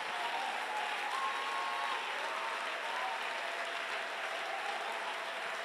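Congregation at a charismatic church service applauding and cheering to acclaim the Lord, a steady, dense wash of clapping and crowd noise filling the room throughout.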